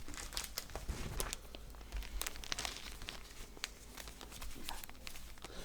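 Artwork slipped back into a paper envelope, giving faint, close crinkling and rustling with a few sharp paper ticks.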